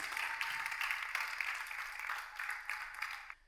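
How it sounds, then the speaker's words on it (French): Audience clapping on a French dating show, a dense burst of applause lasting a few seconds before it tapers off, with no talk over it. "On applaudit Kassim."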